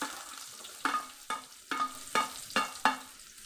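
Onions frying and being stirred in a pan for egg masala Maggi, a steady sizzle punctuated by six regular scraping stirs.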